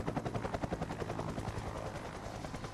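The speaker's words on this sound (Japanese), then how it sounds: "軍用ヘリっぽいですよね" Military helicopter in a cutscene from the zombie survival video game Outbreak 2030, its rotor beating in a fast, steady chop with a droning engine underneath, fairly close and continuous.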